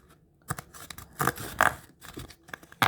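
A paper recipe card from a spice advent calendar is handled and unfolded up close, giving several short crisp rustles and snaps separated by brief pauses, with no talking.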